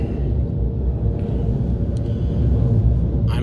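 Heavy low rumble of a train passing over a bridge overhead while stuck in construction traffic beneath it, a steady loud roar with faint higher clatter, no talking.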